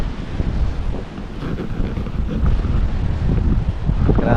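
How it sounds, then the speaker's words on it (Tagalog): Strong wind buffets the microphone over rough, surging sea waves during a typhoon, a loud continuous roar with churning surf and no voices. "Grabe yung alon mga kaidol,"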